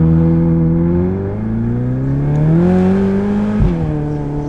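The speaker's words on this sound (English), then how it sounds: "love that throttle blip is like, brap" A car engine revs loudly and close up, pitch climbing steadily under throttle, then a sharp blip and short drop before the engine holds on, with no talking.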